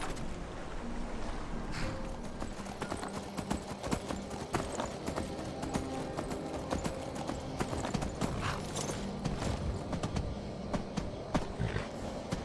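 Horse hooves pulling a carriage in the video game Skyrim clip-clop at a steady walking rhythm, moderately close. Rattling wheels and outdoor ambience carry on throughout, with no talk.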